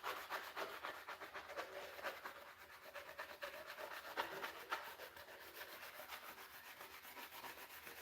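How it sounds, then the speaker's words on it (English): An abrasive sponge scrubs the gasket surface of a Ford 302 engine with steady, close, sandpaper-like rubbing strokes in a continuous rasping rhythm and no voices. "this is actually a little bit of an abrasive sponge, oddly enough"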